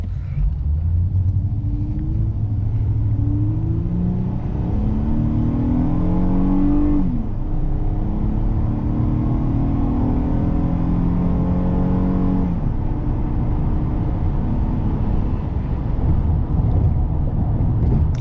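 A 2012 Honda Pilot EXL SUV accelerates hard from a standstill to 70, its engine rumble climbing steadily through several gear shifts and staying loud and continuous throughout.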